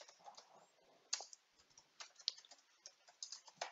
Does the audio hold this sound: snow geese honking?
no